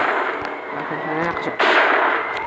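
A sniper rifle shot rings out in a shooting video game, a sharp blast with a lingering tail over dense game sound effects.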